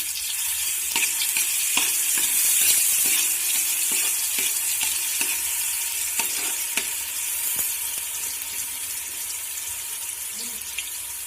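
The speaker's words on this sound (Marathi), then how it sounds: "तेल तापल्यावर तेलात मी मिरच्या घेतलेल्या आहेत वाटून, ओली मिरची ती घातली" Ground green chilies sizzling in hot oil for Rishipanchami bhaji, a loud continuous fry with scattered sharp crackles and spoon taps throughout, close up and without talk.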